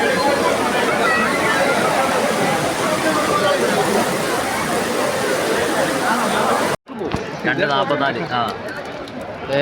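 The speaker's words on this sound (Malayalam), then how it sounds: "ഇവിടെ ഈ വെള്ളച്ചാട്ടം ഇവിടെ നോക്കിയ കാണാ" A waterfall after heavy rain pours as a loud, continuous broadband rush for several seconds. It cuts off abruptly and is followed by a short stretch of voices and outdoor sound.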